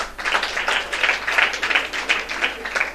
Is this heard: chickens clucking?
no